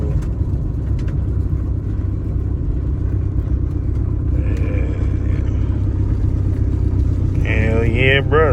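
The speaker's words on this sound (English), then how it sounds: "I'm gonna go ahead and do a full throttle pull." A turbocharged Honda B18B1 engine on low boost under a full-throttle pull, a loud steady droning rumble inside the car that holds throughout, with whistling boost tones rising near the end and voices in the cabin.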